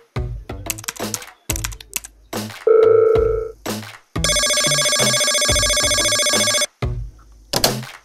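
A mobile phone ringtone plays loud and close, a sustained electronic melody of bright tones. It is preceded by a short beep and rhythmic thumps.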